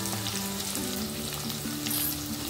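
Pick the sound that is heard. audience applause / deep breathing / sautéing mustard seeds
sautéing mustard seeds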